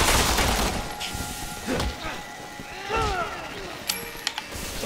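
Gunshots ring out in Resident Evil 6 co-op play: a few scattered, sharp shots with some fainter pops, set among game effects and players talking.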